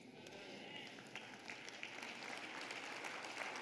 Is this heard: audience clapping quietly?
yes